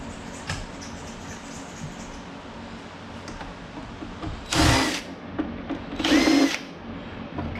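A power screwdriver backs screws out of a Wii Fit balance board, two short whirring bursts up close over a quiet room with faint handling clicks between.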